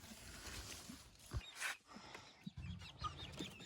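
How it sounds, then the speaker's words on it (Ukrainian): Young chicks let out to roam in a grassy run peck at the grass, giving soft, scattered clucks and chirps at close range, quiet and irregular, with occasional rustling. "Кілька курчат є, скубуть траву."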